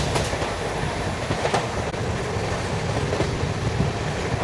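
The Secunderabad–Sirpur Kaghaznagar Intercity Express, train 12757, crosses the Godavari railway bridge near Mancherial at speed. The wheels make a loud, continuous rumble with rhythmic clickety-clack beats close by.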